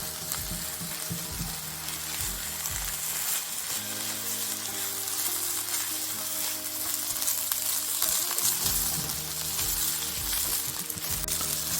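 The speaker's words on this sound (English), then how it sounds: "bringing the spices together with the onions, the garlic, the ginger, the chilli." Spices frying with onions, garlic, ginger and chilli in a pan for chicken tikka masala, giving a continuous close sizzle with occasional stirring scrapes, steady and unbroken, with no voices over it.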